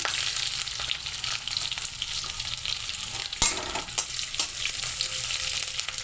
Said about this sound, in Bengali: দেখো তেল গরম হয়ে গেছে, এবার পাঁচফোড়ন দিয়ে দিলাম, দিয়েছি শুকনো লঙ্কা, রসুন